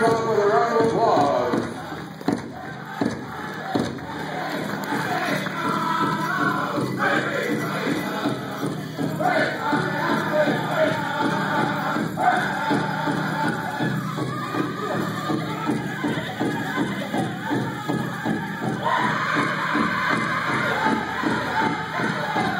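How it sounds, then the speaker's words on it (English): A large crowd gives a long, sustained round of applause for veterans at the Grand Celebration powwow in Hinckley, Minnesota, with a busy, steady wash of clapping and murmuring that carries on without a break. "Play our veterans off with a round of applause."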